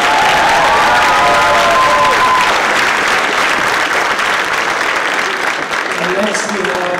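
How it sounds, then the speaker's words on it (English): Loud, dense audience applause and some cheering fill the hall after a group performs at a high school chorus spring concert, starting with a brief voice and gradually tapering toward the end. "Another hand of applause for you."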